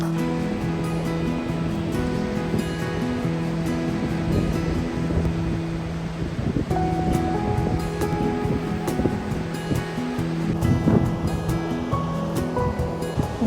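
Strong cold wind blows at Arashiyama Park beside the Katsura River in Kyoto, a continuous loud rushing roar buffeting the microphone, with musical tones in the background.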